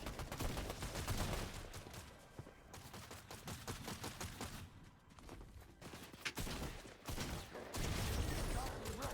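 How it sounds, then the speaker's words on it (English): Shotgun blasts at point-blank range ring out in a video game firefight, mixed into a dense, nearly continuous barrage of rapid gunfire with brief lulls. "Point blank with a shotgun."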